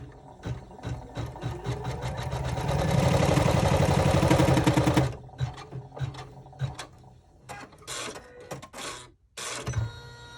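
A sewing machine runs a placement stitch on a chevron braid clutch, starting with short bursts of stitches, then a sustained fast whirring run of about two seconds, followed by stop-start stitching and handling noises, close and loud.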